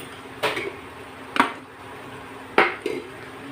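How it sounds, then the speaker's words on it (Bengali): Powdered cumin and coriander sauté in a pan for a Bengali prawn and jackfruit-seed greens dish. A utensil scrapes and clinks against the pan in about four short bursts over a soft background hiss. "এবার আমি মশলাটা ভালো করে কষিয়ে নেব।"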